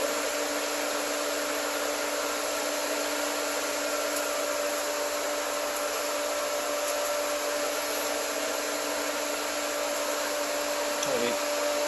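A pool sand filter pump runs on its whirlpool setting, a steady loud broadband whir with a constant hum, continuous and unchanging throughout.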